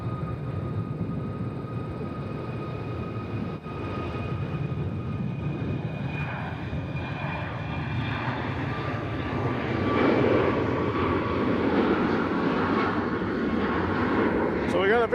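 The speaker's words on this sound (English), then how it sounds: "As we have a Southwest taking off" A Southwest airliner takes off at Nashville International Airport, its jet roar building steadily and growing louder and broader toward the end, a sustained engine rush heard from the field.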